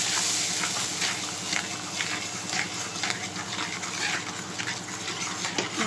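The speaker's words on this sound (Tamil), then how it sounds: "இங்கே பாருங்க, தக்காளி பேஸ்ட்டு. இதெல்லாம் கிண்டிக்கலாம்." Tomato paste being stirred in a frying pan for a prawn masala curry, a steady soft sizzle with scraping stir strokes running throughout, close and fairly quiet.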